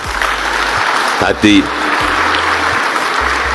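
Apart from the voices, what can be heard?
audience applause for Pak Hadi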